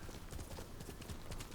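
Horse hooves clip-clop at a steady trotting rhythm in Ghost of Tsushima, close and continuous, with no talk over them.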